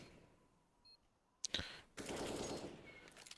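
In a Counter-Strike match during a gun round, a couple of sharp gunshots crack out after a faint beep, followed by a sustained burst of rapid gunfire that fades into a noisy tail.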